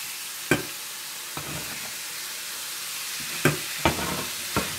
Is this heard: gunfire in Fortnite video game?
no